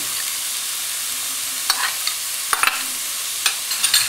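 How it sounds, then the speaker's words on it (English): Finely chopped carrots and green peppers sautéing in a pan, a steady sizzle broken by several sharp scraping clicks of a utensil stirring them, close and without talk. "we only need them to saute for about 2 or 3 minutes"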